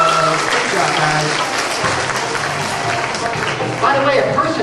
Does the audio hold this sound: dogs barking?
no